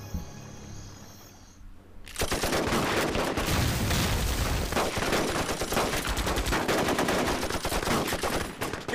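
Dense gunfire erupts in a war drama battle scene set during the anti-Japanese resistance, with loud rapid machine-gun bursts and overlapping shots continuing steadily after a quieter opening.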